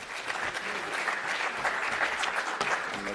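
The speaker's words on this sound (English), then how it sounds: "Give them a round of applause, please." An audience at a national electricity colloquium applauds steadily, a dense, even wash of clapping that carries through the whole moment.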